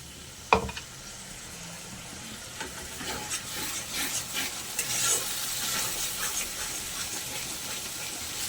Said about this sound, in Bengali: অল্প একটু জল দেবো, দিয়ে মশলাটা কষে নেব।